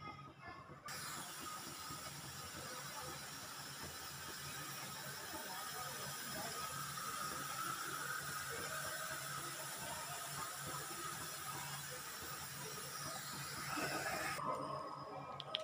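Jackfruit rice cake steaming in a closed pressure cooker with the whistle left off, giving a steady, continuous hiss and rushing steam noise with faint rattling, constant in level throughout.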